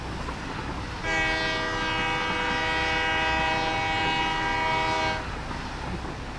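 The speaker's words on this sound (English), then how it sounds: "Just a freight train coming your way. Beep beep. I'm just honking." A freight train horn in the Satisfactory video game sounds one long, steady, loud blast of several seconds, rich in layered tones, over a background rumble of the moving train.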